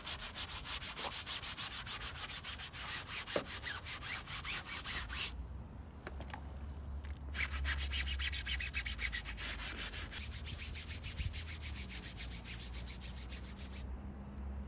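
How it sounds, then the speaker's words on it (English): Scrubbing a car roof with a brush during mobile detailing, a continuous close rasping, rubbing texture that runs nearly unbroken for the whole stretch, with a low rumble underneath and no talking. "Getting into all the little gaps and giving it a good scrub is definitely needed"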